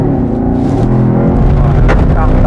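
Chevrolet Camaro convertible with an automatic gearbox and 461 horsepower running hard on a race track, its engine a loud, heavy low roar from inside the car, with a brief rattle or clatter partway through.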